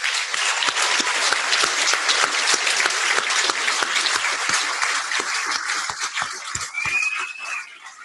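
An audience at a ball applauds veterans with sustained, loud clapping; a faint whistle-like tone rises near the end as the clapping thins.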